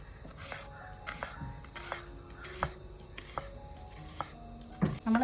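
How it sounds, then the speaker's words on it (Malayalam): Onions being chopped with a knife on a board in a home kitchen, a series of crisp, irregular taps close by and fairly quiet, with no talking. "അപ്പൊ ഇനി ഉള്ളിയൊക്കെ അരിയട്ടെ"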